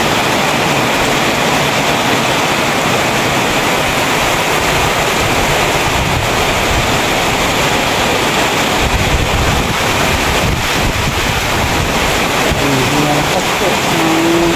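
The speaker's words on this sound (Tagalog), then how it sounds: "Malakas po ang ulan." Heavy rain and strong wind in the middle of the night, a loud, dense, unbroken roar with gusts buffeting the microphone throughout, and a faint voice beneath it.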